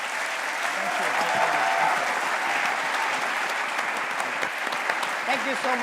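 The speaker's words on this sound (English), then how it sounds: "So let's give him a round of applause." A university audience applauds an honorary doctorate recipient at a Tel Aviv University dialogue, with loud sustained clapping and faint voices murmuring through the crowd.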